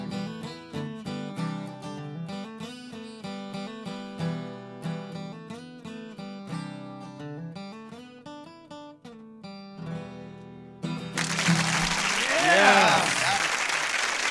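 Applause bursts up loudly near the end of a sung piece in a studio podcast setting, a dense wash of clapping swelling over the last few seconds after the music.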